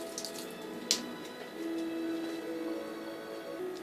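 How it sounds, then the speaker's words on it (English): Water pours from a magic coffee cup trick, a quiet steady trickling stream after a brief clink, with a faint thin tone running beneath it. "So put in, and then water will come out."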